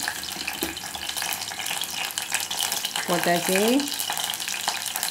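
Frying in hot oil on a stove for pepper fry chicken gives a steady, close sizzle and crackle. A voice briefly speaks partway through, and a short tonal squeak rises near the middle.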